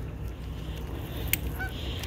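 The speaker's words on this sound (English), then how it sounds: "Canada geese." Canada geese honk outdoors along a hiking trail, a few short nasal calls at moderate distance over a steady low background rumble, with no talking.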